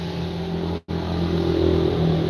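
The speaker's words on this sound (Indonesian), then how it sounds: "There is a motorcycle behind me, okay?" A motorcycle passes along a street, its engine a steady, close drone that cuts out for a moment and then returns and holds to the end.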